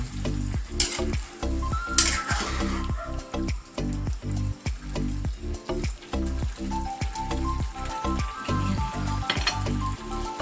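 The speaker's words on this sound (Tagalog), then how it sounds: "Tapos haluin na natin yan." Taro leaves for Bicol-style gulay na laing are stirred while frying, giving a loud, continuous sizzle with rapid, rhythmic scrapes of the utensil against the pan.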